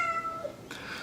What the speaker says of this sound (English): that's the cat for those of you who just heard her in the background